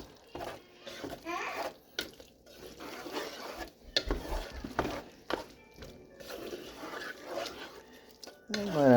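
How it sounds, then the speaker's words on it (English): A dozen eggs cooking in a frying pan for a sausage, egg and cheese breakfast casserole, with utensil clinks and scraping against the pan and faint sizzling, heard close up while a person talks over it throughout. "So now I have a whole dozen eggs in the frying pan here."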